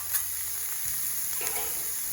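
Green pepper and onion fry on a Blackstone griddle, a soft, steady hiss of sizzling with faint scrapes and no talking.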